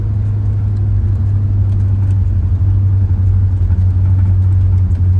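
A camper on a road test rolls along steadily, its engine and tires making a constant low hum and rumble close to the microphone, with no voices.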